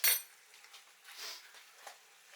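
A spoon stirring a teaspoon of sugar into chilli curry with lobster and king prawns in a pan, giving a sharp metallic clink at the start and then soft scraping and tapping, fairly quiet with no talk.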